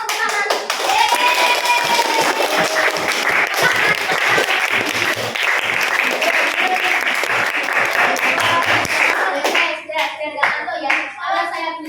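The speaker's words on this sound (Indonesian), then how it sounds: "Oke, sekarang semua tepuk tangan." A class of eighth-grade students at an Islamic junior high school in Kediri applauds together in a classroom, a dense, steady burst of clapping lasting most of the stretch before thinning into scattered claps and children's voices near the end.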